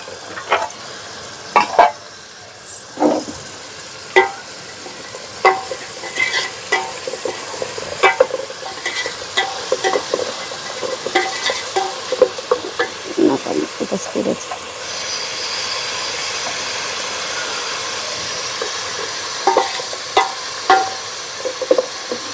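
Onions frying in a pan for vegetable biryani, a continuous sizzle under frequent clattering stir-and-scrape strokes, some stretches louder and steadier, with occasional faint talk nearby.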